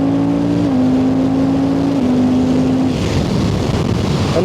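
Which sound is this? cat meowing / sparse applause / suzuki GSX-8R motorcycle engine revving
suzuki GSX-8R motorcycle engine revving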